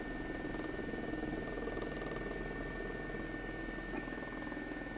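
A helicopter flies over central London on its approach to land on the grass at Buckingham Palace, its steady rotor and engine drone continuous and fairly loud throughout, with no talking.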